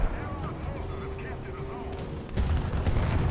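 Naval gunfire in War Thunder from the Pr. 1331M Parchim corvette: a loud, low boom lands near the end over a rumbling background, while someone talks throughout.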